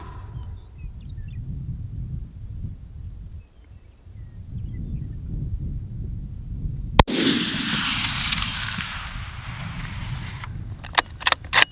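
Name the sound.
rifle gunshot during pronghorn hunt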